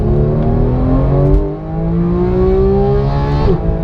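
A Porsche GT3's naturally aspirated engine revs toward 9,000 RPM: a loud, close, sustained mechanical howl climbs steadily in pitch, dips briefly between gears, then rises again to a high wail, with no talking.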